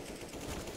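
A brief, dense burst of rapid automatic gunfire from Counter-Strike: Global Offensive, continuous and fairly loud throughout.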